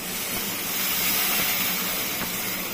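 Water poured into a hot pan of spiced potatoes raises a steady, loud hissing sizzle of steam that holds for about three seconds with no talking over it.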